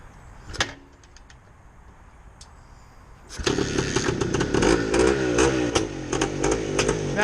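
A 1971 Yamaha RT360 two-stroke motorcycle being kickstarted: a brief kick and a few quiet mechanical clicks, then the engine fires loudly and keeps running with rapid raspy revving, close by and without talk.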